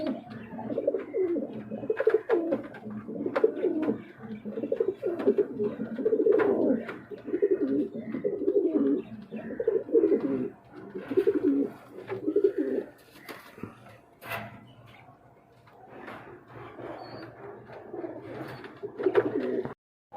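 Pigeons coo steadily in a close, continuous chorus, Danish running and Lahori Sherazi pigeons together, with overlapping throaty rolls that dip briefly before building again.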